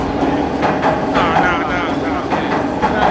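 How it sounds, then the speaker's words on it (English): A train passes close by outdoors, its loud continuous rumble and rattling wheel noise filling the whole stretch with some squealing tones, while people's voices are faintly mixed in. "I'm sorry about the train"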